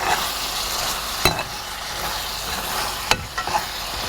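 Coconut chicken masala for Pallipalayam chicken bubbling and sizzling steadily in a pan, with a spoon stirring and scraping the metal twice in sharp clicks, close and alone.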